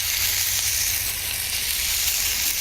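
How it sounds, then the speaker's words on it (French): A veal chop sears on a hot plancha with no added fat, giving a loud, steady sizzle that runs unbroken throughout, alone and close. "mettre le veau sur la plancha"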